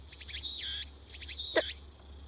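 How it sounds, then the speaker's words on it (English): Cicadas chirp in the visual novel Steins;Gate, a steady high-pitched buzzing trill in quick rhythmic pulses, alone and fairly faint. "The only sound is the chirping of cicadas."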